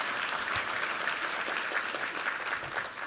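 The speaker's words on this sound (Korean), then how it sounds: "우리 하나님께 감사와 영광의 박수 올려드리겠습니다" A church congregation applauds during a Sunday worship service, broad, even clapping from many people filling the sanctuary at a constant, fairly loud level with no voices on top.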